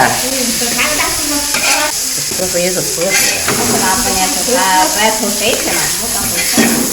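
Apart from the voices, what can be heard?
bitter melon stir-frying in a wok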